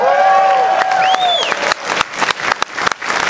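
Comic convention panel audience bursts into applause with cheering and whoops, loud at first over a fading voice, then thinning into scattered claps.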